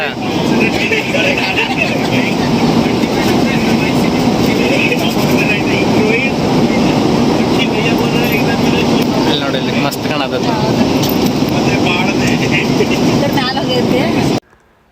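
A passenger airplane's engine drone fills the cabin during a flight, a loud, steady roar that cuts off abruptly at the end, with people talking under it.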